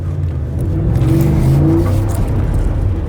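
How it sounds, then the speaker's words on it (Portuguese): A Ford F-150 V8 Tremor pickup accelerates hard, a steady loud low engine roar rising in pitch for a few seconds, with no talking. "essa coisa de você dar pé, sair rápido e tal, aqui vai girar em falso"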